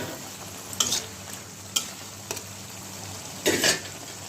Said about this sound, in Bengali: মশলাটা ফুটে উঠলো, এখন আমি মাছগুলো দিয়ে দিব।